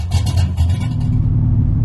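A Chevrolet Monte Carlo engine, not fully warmed up and fitted with a new torque converter, idles close by with a deep, steady rumble, a slight rev at the start settling into an even drone.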